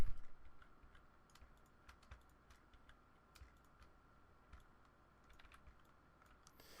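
Keystrokes on a computer keyboard, mostly sparse isolated clicks with a few quick runs, close and quiet over faint room hiss, no talk.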